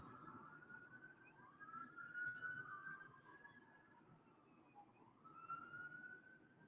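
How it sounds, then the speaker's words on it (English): Faint emergency vehicle sirens wail in the distance, a rising and falling tone that sweeps up, dips and climbs again over a low street-noise background. "Sirens."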